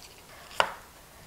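A single crisp knife cut slices through an onion on a board, one sharp near chop in an otherwise quiet moment.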